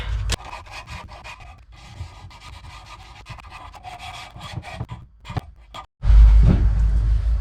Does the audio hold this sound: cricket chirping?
no